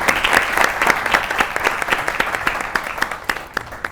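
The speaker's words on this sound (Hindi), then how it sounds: "ताली होनी चाहिए इस पे।" Loud, dense applause from a studio audience at a Pakistani comedy talk show, steady clapping filling the whole stretch and tapering slightly toward the end.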